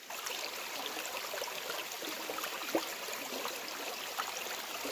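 A small side creek flows over bedrock in a steady, continuous trickle and burble, close and moderately quiet, with no voices.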